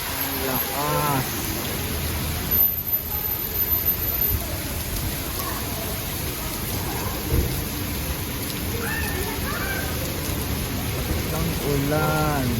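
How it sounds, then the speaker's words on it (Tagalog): Heavy rain pours down in Dubai, a loud, steady roar of downpour with low thunder rumbling underneath, while voices speak briefly over it. "Malakas na talagang ulan sa Dubai."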